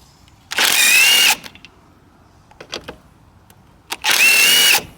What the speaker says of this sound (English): So we just got to take these two bolts out